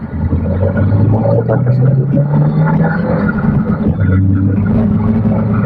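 A Peugeot 405 STI engine with slight knocking runs close and loud, its rumbling note climbing, dropping, then settling again over several seconds.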